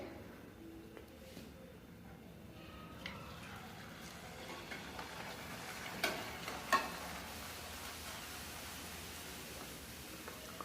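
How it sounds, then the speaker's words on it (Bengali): Luchi deep-frying in hot oil, a faint, steady sizzle with soft bubbling and a few brief clatters from a utensil, quiet and close in a home kitchen. "এই যে আমার গোপুসোনার জন্য লুচি ভাজছি"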